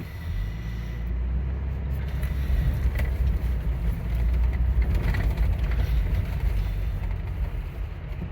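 A 1997 Lexus LX450 (FZJ80) rolls back in neutral, giving a low rumbling drone of tires and drivetrain that swells slightly and then eases off.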